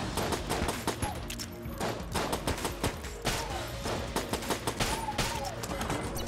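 A fast-firing gun rattles out a rapid, steady stream of shots in Enter the Gungeon, loud and dense throughout with chiming game effects mixed in.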